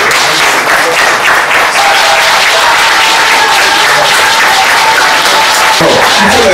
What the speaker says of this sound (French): demander à tous les jeunes de la salle de lui faire un standing ovation